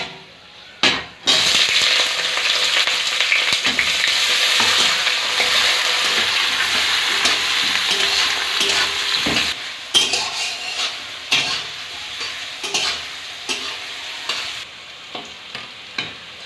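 Chopped onions hit hot oil with bay leaf, cloves, cardamom and cinnamon, bursting into a loud sizzle that settles into steady frying, broken by spatula scrapes and clanks against the pan.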